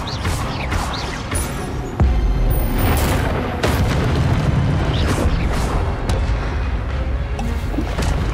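A fire spell cast in the video game Hogwarts Legacy, heard as a loud booming burst that roars on with crackling, rumbling whooshes, sustained and dense, with no talk.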